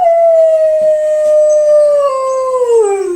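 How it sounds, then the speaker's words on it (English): A single long, loud howl of a jackal rises and then slowly falls in pitch, clear and sustained, with no other sounds around it. "he lifted his head and started howling loudly"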